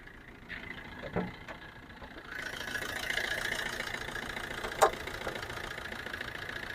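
A Maruti Suzuki Swift VDi diesel engine idles steadily with a low, even hum, joined by a few faint clicks and a brief sharp tick partway through.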